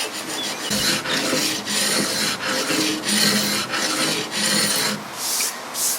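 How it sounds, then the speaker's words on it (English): A hand scraper drags repeatedly across an oak hall table, lifting a thin coat of shellac in steady, rhythmic rasping strokes, close and loud with no talking. "what I generally do is I go in first with a scraper just to see how easy that finish is to remove"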